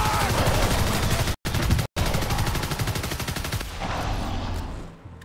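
Rapid automatic gunfire in the video game Evolve, a dense, loud, continuous stream of shots that cuts out briefly twice and then fades near the end.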